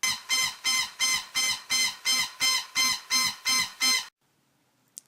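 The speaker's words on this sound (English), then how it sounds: "The oxygen low pressure alarm cycles at 180 cycles per minute." ProNox oxygen low pressure alarm sounding in rapid, evenly spaced shrill bursts, about a dozen loud squawking pulses back to back before it abruptly cuts off into near silence.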